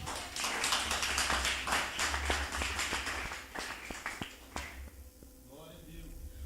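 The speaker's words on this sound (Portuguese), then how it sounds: "Aplauda Jesus porque Ele merece" Applause from the congregation at an evangelical Protestant conference, a dense patter of many hands clapping for about five seconds before thinning out into quieter room sound.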